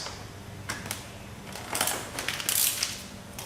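Excess vinyl wrap being cut and handled on a 2015-2017 Subaru Outback front bumper: close crinkling, rustling and snipping in uneven bursts that grow louder toward the end, with no talking.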